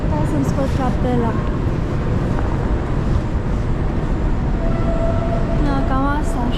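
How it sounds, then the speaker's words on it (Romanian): Montreal metro train running loud and close, with a continuous rumble and rising and falling whining tones across the whole stretch while people talk over it. "Da, cam asta, așa este metroul."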